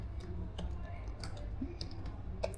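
Scattered keyboard key clicks while Arduino code is typed, sparse and irregular taps close by, with faint talk in the background.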